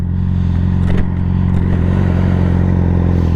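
A motorcycle fitted with new frame sliders rides along, its engine a steady, loud, close drone with a brief dip near the middle and no voices.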